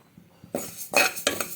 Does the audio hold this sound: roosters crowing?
no